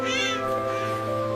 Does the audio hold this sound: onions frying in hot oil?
no